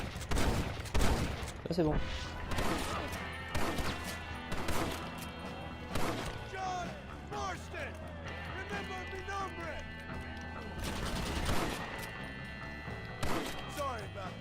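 Rapid gunfire and crashing impacts from a Gatling gun in the Western video game Red Dead Redemption, bursts recurring through the scene over steady background music, with someone talking throughout.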